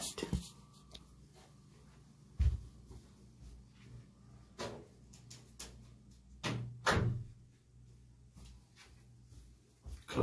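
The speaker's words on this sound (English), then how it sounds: "Close my closet door." A closet door is pushed shut indoors, with several soft knocks and thuds spread across the stretch, a louder close near the middle and another at the end, in a quiet room with no talking.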